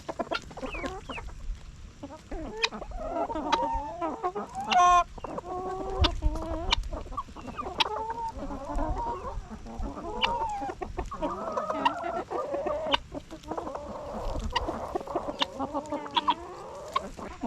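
Wet farm chickens cluck and chatter in the rain, a busy, overlapping flock heard close by with repeated clucks, a brief squawk, and a soft steady patter of rain beneath.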